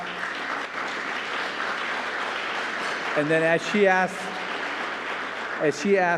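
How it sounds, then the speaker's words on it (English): Audience applause at the 2023 Houston mayoral forum held by TAG, a steady broad clapping wash running throughout, with a voice speaking over it in the latter half. "please give her a round of applause"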